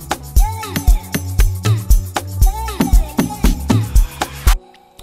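Nigerian Amapiano beat built in FL Studio, with a punchy low log drum, crisp shakers and percussion hits in a steady groove under a chopped vocal sample, loud and close, then cutting off abruptly near the end.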